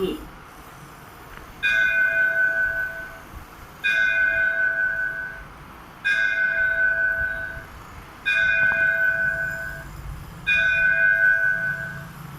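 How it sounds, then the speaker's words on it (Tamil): A Hindu temple bell rings five times at steady intervals of about two seconds, each strike bright and ringing before it fades, over a soft background hum. "அருள்மிகு ஸ்ரீ வீர பாஞ்சாலி அம்மன் திருக்கோயில் மணியோசை"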